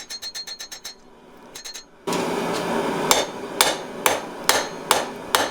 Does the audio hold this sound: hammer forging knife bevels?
yes